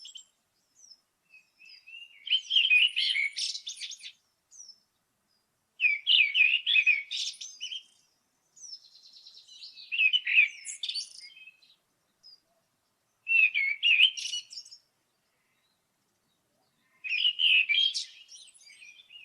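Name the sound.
blackbird song, original bird call recording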